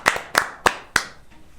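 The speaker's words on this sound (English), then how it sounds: "Let's get a round of applause." Four sharp, evenly spaced hand claps from a single nearby person, each crisp and distinct, trailing off into quiet rather than building into a crowd's applause.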